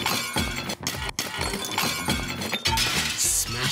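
Glass is smashed in a semi-anechoic test chamber, giving a loud, sharp shattering crash followed by a dense spray of tinkling fragments and scattered pieces settling, close and with no voices.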